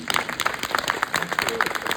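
Convention audience applauding at a GalaxyCon Q&A in Des Moines, brief choppy clapping from a crowd with voices mixed in.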